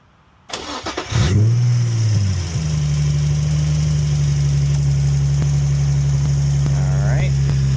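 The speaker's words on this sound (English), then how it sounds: "Go ahead and start the car" A 2004 Infiniti G35 engine cranks briefly, catches and settles into a steady, close idle that hums on evenly, with a faint voice late on.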